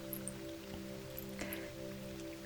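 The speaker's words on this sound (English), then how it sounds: "back here in our Reiki room, another really rainy day" Rain falls steadily on a rainy day outside a cozy indoor room, a soft continuous patter with scattered drops, heard alone under a faint steady hum.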